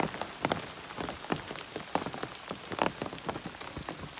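Rain on the Appalachian Trail, a close, steady patter of drops striking a nearby surface with irregular louder taps throughout, no voices.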